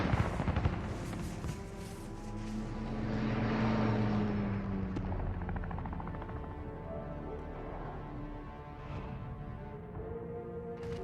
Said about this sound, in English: Friendly chopper gunner on overwatch.